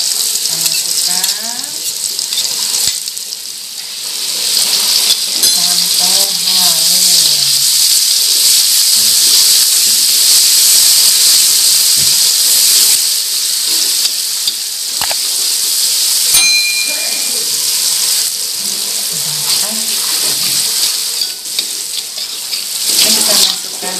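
Ground spice paste dropped into hot oil with golden fried garlic for bihun goreng, giving a loud, steady sizzle with occasional utensil clatters and faint tonal sounds underneath.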